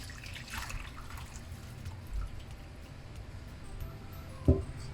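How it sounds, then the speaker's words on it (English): Fish broth being poured back into a pan for a red snapper, tofu and clam soup: a faint, steady trickle and dripping of liquid with a small splash near the end, no talking. "we're going to put the broth back into the pan"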